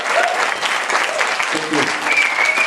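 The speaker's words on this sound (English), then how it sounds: "please give it up for Michael and Ruth." Applause from a church congregation for two musicians, a steady dense patter of many hands filling the room, with a few voices faintly mixed in.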